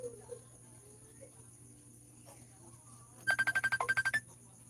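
An incoming call sets off a cellphone ringtone: a rapid train of about a dozen pulsed electronic beeps, close and distinct after a near-silent stretch with a low steady hum.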